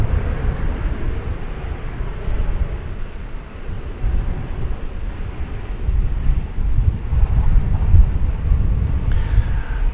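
An American Airlines jet arriving at DFW Airport from Baton Rouge, Louisiana, gives a continuous broad engine roar with wind noise, loud and steady, swelling slightly toward the end.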